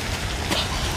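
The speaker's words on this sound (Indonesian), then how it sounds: "hujan pun turun dengan begitu lebat" Heavy rain pours down steadily as a dense, continuous hiss with no pauses, filling the whole moment without any voices.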